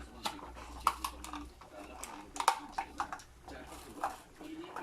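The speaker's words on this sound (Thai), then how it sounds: "ปิดฝาค่ะ" A lid is set down on a pot of boiled white beans topped with white sesame, giving a few light metallic clinks and taps in a kitchen while someone talks.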